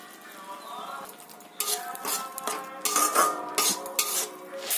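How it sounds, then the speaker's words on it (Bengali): Spices being stirred and sautéed in a pan for a Bengali home recipe, with a metal spoon clinking and scraping against the pan in repeated busy strokes, close and fairly loud, over a faint background hum. "মশলাটাকে খুব ভালো করে অনেকক্ষণ ধরে কষিয়ে নিতে হবে"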